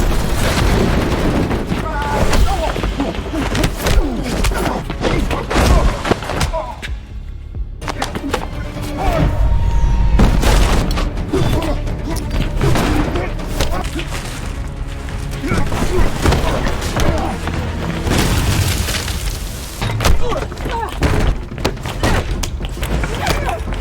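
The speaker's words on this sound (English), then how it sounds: "As explosions shake the building" Deep booming explosions rock a building during a film fight scene, heavy rumbling thuds and blasts layered with music and effects, loud and continuous with a brief dip midway.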